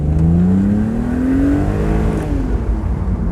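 A BMW Z3 3.0i accelerates along a road, its engine note climbing steadily in pitch, loud and close, then easing off near the end with continuous wind and road roar underneath.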